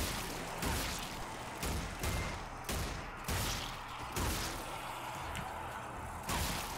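Repeated bursts of gunfire in a zombie shooter video game crack over a dense, noisy background, coming in rapid volleys every second or so with no talking.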